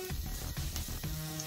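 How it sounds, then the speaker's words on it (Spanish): Garlic frying in hot sesame oil for Cambodian lok lak, a steady close sizzle with a few soft stirring scrapes and no talking. "Vamos a dejar que esto caliente un poco y le vamos a agregar los ajos"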